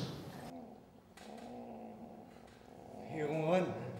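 An actor on stage imitates a cat purring and growling, a low vocal rumble that swells into a louder growl near the end.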